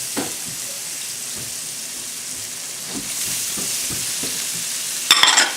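Sweet potatoes and butternut squash sizzle steadily in a hot pan, with scattered stirring clicks and a sharper burst of spitting near the end; no talking.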